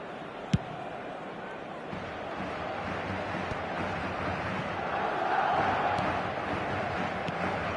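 A football crowd in a stadium roars with a steady, broad wash of cheering that swells a little toward the end, with a single sharp knock near the start.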